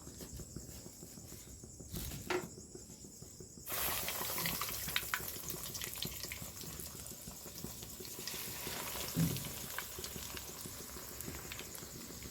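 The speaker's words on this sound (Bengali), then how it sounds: "এখন ভাজবো তেলে" Egg cutlets drop into hot oil and fry, a faint quiet stretch giving way to a steady bubbling sizzle that continues at a moderate level with occasional pops.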